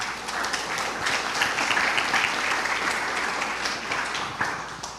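A church congregation breaks into sustained applause, a dense, steady wash of many hands clapping at close range, with a few sharper claps standing out near the end.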